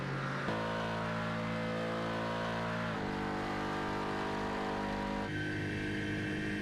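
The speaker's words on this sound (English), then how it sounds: "just to see these cars just roar down the straightaways is wonderful in its own right" IMSA race cars roar down the straight at Fuji Speedway, a loud continuous engine drone with shifting tones and gear changes, steady and close throughout.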